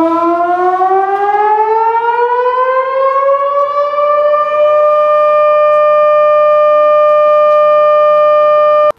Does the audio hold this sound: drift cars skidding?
no